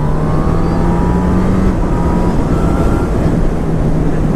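A 2019 Honda CB1000R Plus motorcycle, kept below 6,000 rpm during its running-in period, gives a loud, close engine drone whose pitch climbs gradually as it accelerates, with continuous wind and road noise underneath.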